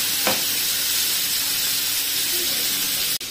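Tandoori chicken pieces fry in a hot pan with a constant loud sizzle and hiss, and a brief scrape marks the pieces being turned early on, with a short break near the end.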